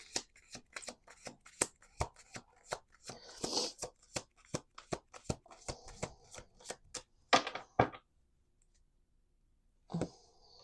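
Rapid riffling of playing cards in quick bursts, crisp close-up flutters and snaps, followed by a pause and one last short shuffle.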